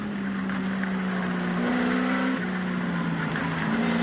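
Peter Brock's number 05 touring car at Bathurst in 1986 drones steadily from inside the cabin, its engine note rising and falling with gear changes, loud and continuous with no talk.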